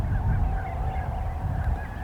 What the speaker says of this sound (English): It was a great cacophonous swirl of avian life in this gorgeous southern Alberta springtime sun.